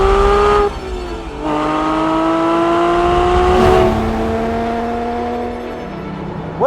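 A Ruf SCR flat-six engine revs hard nearby, its loud, rising drone breaking off at each gear change before climbing again, then easing back toward the end.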